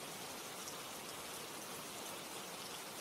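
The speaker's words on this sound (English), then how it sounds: "It's raining." Steady rain added as background ambience, a continuous soft hiss of falling drops with no breaks, no talk and nothing else standing out.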